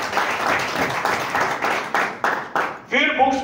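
An audience at a motivational speech claps in rhythmic surges for about three seconds, then the applause drops away as a voice begins.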